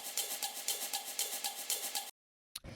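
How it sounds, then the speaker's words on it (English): A small shaker loop sampled from an old vinyl break, ticking in a steady, even rhythm of bright shakes for about two seconds, then a brief silence before a short burst starts again. "So the first layer that I have here is this little shaker thing."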